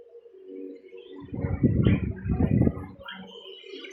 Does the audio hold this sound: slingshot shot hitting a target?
no